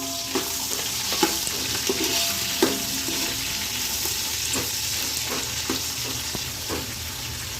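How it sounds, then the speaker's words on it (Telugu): Onion and green chillies fry in oil with cumin for chicken biryani, a continuous close sizzle with scattered soft clinks and stirring knocks, no talking. "ఇది కొంచెం ఫ్రై చేసుకొని నెక్స్ట్ ఆనియన్ అండ్ పచ్చిమిర్చి."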